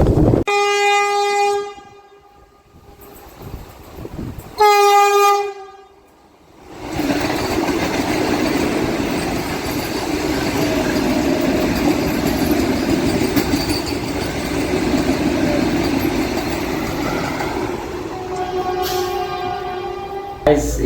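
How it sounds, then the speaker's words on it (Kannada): A train passes a level crossing in Hubli after two loud horn blasts, its rumbling wagons roaring steadily nearby for several seconds, followed by another horn blast at the end. "ಇದೊಂದು ಟ್ರೈನ್ ಬರ್ತೈತೆ ಅಂತ ಆಗ್ಲಂತ ಕಾಯ್ದೀವಿ"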